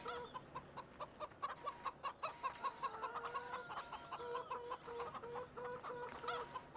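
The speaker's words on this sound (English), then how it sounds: "Go say hi to the chickens." Chickens cluck and chatter in the Farming Simulator 17 video game, a busy flock of short, repeated calls overlapping steadily at close range, with no talking.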